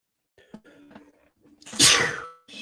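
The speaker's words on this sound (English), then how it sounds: "I think I got another sneeze coming" A single loud, close sneeze bursts out after a few quiet breathy sounds, sharp and explosive, then fades into a short trailing breath.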